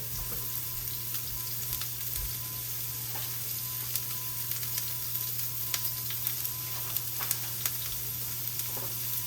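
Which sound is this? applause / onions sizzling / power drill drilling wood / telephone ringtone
onions sizzling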